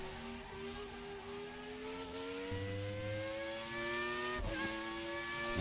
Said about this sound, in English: There's pops and crackles and baubles from the exhaust. Car itself making noises.